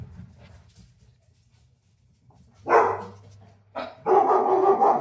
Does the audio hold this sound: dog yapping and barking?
yes